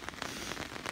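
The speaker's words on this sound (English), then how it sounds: "With the umbrella and walking in the rain." Rain falling on an umbrella while walking outdoors on a cool autumn day, a close, steady patter of drops tapping the canopy with soft irregular pulses, fairly faint and with no talking.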